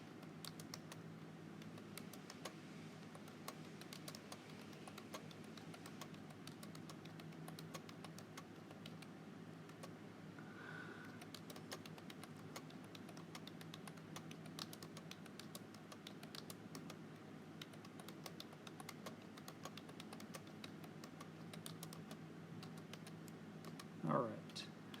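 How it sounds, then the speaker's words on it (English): Rapid typing on a computer keyboard while times are entered into a spreadsheet, a steady run of quick, light key clicks throughout at moderate volume, with a louder tap near the end. "type in all those times."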